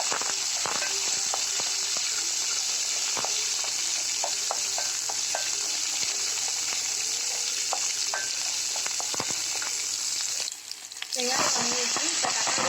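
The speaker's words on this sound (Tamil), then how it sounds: "பூண்டு, மிளகாய், வெங்காயம் இது எல்லாத்தையும் ஆட் பண்ணி நல்லா வதக்கிக்கலாம்." Onion, garlic and chillies sauté in a pan for a thuthuvalai chutney, a steady loud sizzle with scattered spoon scrapes and stirring clicks, briefly dropping near the end before the frying resumes.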